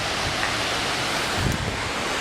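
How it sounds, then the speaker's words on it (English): Water rushing and splashing at Grizzly Falls, a waterfall on a tributary in Kings Canyon, California, heard as a steady, dense broadband roar that stays even throughout, with no voices. "we can hear the water. This is called the Grizzly Falls."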